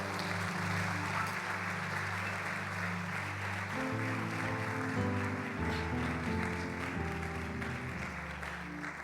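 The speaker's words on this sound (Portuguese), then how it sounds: "Você pode aplaudir ao Senhor por isso?" A church congregation applauds in a sustained wash of clapping under sustained organ or keyboard chords, heard from a distance in a large hall.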